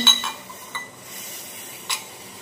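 A spoon clinks against a pot while tea with ginger is stirred: a few light metallic taps spaced apart over a faint background hiss.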